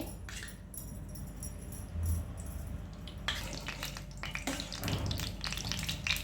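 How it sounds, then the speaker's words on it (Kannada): Cashews, raisins and almonds roast in ghee in a pan while sweet avalakki is prepared, giving a steady sizzle with a few light stirring clinks throughout. "ಗೋಡಂಬಿ ಹುರ್ಕೊಳ್ಳೋಣ. ದ್ರಾಕ್ಷಿ, ಗೋಡಂಬಿ, ಬಾದಾಮಿ 1-2 ಸ್ಪೂನ್ ತುಪ್ಪ ಹಾಕಿ"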